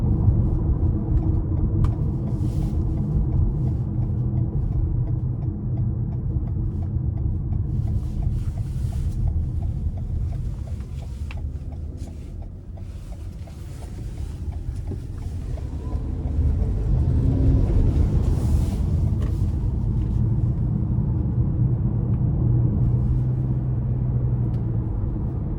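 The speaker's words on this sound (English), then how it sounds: "And even in sport mode, I can feel it kind of revving up, but it's not overly loud even in this mode here." A 2025 Toyota RAV4 Hybrid XLE Premium accelerating onto an interstate in sport mode, heard from inside the cabin as a loud, steady engine and road drone that swells slightly in the second half, with no talking.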